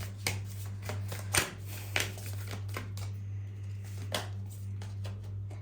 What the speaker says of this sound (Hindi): I need one card eight one time, so I have to shuffle again.